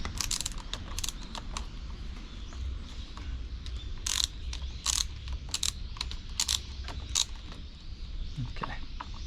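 A ratchet loosens 8 mm bolts on a Suzuki SV650 motorcycle, with quick bursts of clicking at irregular intervals, close by, over a low background hum.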